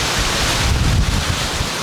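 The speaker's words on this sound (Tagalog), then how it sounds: "Lumalakas ang hangin" Strong wind buffets the microphone on a roro ferry at sea, a loud continuous roar of gusting air and rushing water with no voices.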